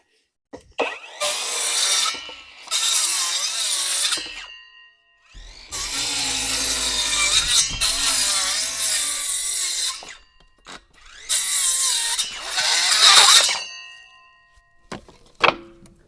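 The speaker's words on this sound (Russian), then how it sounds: "еще вот этот поддон сейчас распилю циркуляркой" A circular saw cuts up a wooden pallet for kindling in four loud bursts of high whining, rasping cutting, with short quiet gaps and small knocks and clanks of wood between them.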